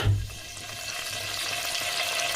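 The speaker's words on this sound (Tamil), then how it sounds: "வெந்த பிறகு சீரகம் போட்டு தாளிச்சிட்டோம்" Cumin seeds tempering in hot oil for sambar, a steady close frying hiss that starts with a brief clatter and holds evenly without speech.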